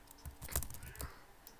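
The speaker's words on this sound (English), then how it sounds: "I'm playing on computer and keyboard and mouse, by the way" Several quick, quiet clicks and taps come from a computer keyboard and mouse during play of a PC basketball game, with uneven gaps between them and no voices.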